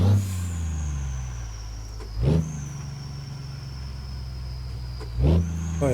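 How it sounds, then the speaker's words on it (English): A Kenworth W900 truck in American Truck Simulator drones with a steady, loud engine hum, broken by two short, sharp air-brake bursts spaced about three seconds apart. "Oh, I had to slam on the brakes there"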